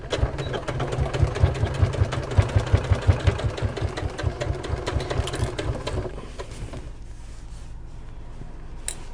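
Nearby, a sewing machine runs a 1/4 inch seam on a fabric bag, its rapid rhythmic thumping loud and steady for about six seconds before the motor winds down to a quieter hum.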